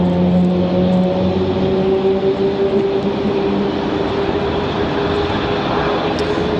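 Frontier Airlines jet engines spooling up at Raleigh Durham International Airport, a loud steady roar with sustained tonal whine layered over broadband rumble, continuous and close, no voices.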